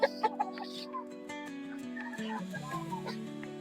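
Chickens at a poultry market cluck and squawk in short, close bursts over a steady murmur of the crowd, with several birds calling one after another.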